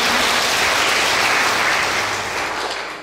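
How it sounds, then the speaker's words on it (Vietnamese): Sustained applause from a large crowd at a Buddhist temple talk, dense and loud throughout, gradually tapering slightly toward the end. "Quá giỏi, cho một tràng pháo tay."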